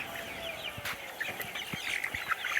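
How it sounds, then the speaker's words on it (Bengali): White broiler chickens inside a poultry farm shed make scattered, faint clucks and short calls over a quiet background, with a few brief knocks in between. "এটা হইতেছে আপনার সাদা মুরগি"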